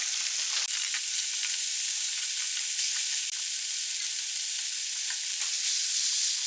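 Frozen bell peppers stir-frying in a pan, a steady close sizzle with faint crackles and occasional scraping stirs throughout, no talking.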